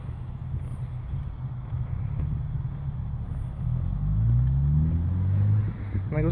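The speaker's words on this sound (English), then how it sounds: "It was a car." A car passes on a road near a roundabout during a walk home from work, a low rumbling swell that builds toward the end over steady wind noise, with no one talking.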